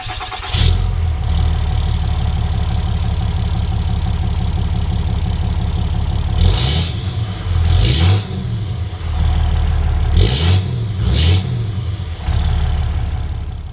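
A 2012 Ram 3500 pickup with a new exhaust system and the DPF deleted runs loud and close, holding a steady deep idle broken by four sharp throttle revs in two pairs.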